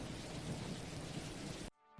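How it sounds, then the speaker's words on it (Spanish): Heavy rain pours steadily under a deep, rolling thunderstorm rumble. The sound is loud and continuous, then cuts off abruptly near the end, leaving near silence. "Temporada de lluvias, tormentas y huracanes."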